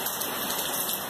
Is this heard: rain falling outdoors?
yes